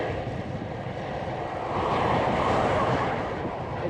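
Steady wind buffeting a microphone, a dense low rumble that swells louder midway and holds, with no voices.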